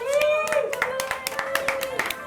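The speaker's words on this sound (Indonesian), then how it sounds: "Tepuk tangan." Several people clap their hands in a small eatery in Solo, a series of crisp, uneven claps under a voice singing or talking.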